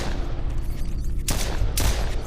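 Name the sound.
gunfire from a gun in the video game The Void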